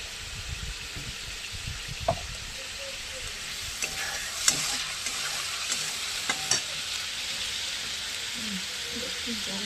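Spices frying in oil in a pan, a quiet steady sizzle with occasional stirring clinks and scrapes, faint voices in the background.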